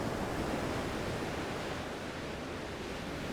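Steady broadband wash of sea surf breaking at the shore, a continuous even roar close by with no voices.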